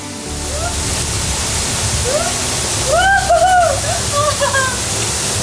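A river in Taiwan rushes in a continuous broadband wash of flowing water, fairly close. Bird chirps rise over the water near the middle.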